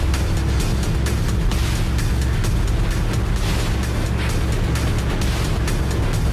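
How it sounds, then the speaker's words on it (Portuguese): A motorcycle engine in the video game Tower of Fantasy drones steadily and loudly throughout, with a broad whooshing, wind-like texture and no talk. "Essa moto é difícil de controlar, diferente da nossa moto original."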